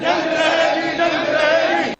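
Protesting doctors and paramedical staff at a sit-in outside a civil hospital's outpatient department chant slogans together, a dense, steady crowd of voices holding loud and continuous for the whole stretch before cutting off abruptly.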